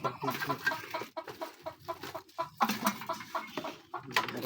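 A mother hen clucks in a poultry pen where newly hatched chicks are being moved, with short repeated clucks close by and some faint background voices.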